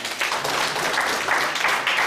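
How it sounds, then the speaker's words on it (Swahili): An audience at a conference on tech and innovation for food security and rural development applauds after remarks, a dense, sustained wash of clapping from a crowd that stays loud throughout. "Tumpigie makofi."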